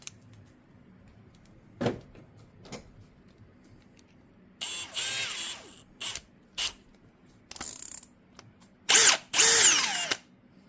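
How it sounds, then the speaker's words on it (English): A power drill spinning a brass wire brush whirs in several short bursts and one longer run, with a few clicks and handling clatter between them, close by. "put that right into our drill"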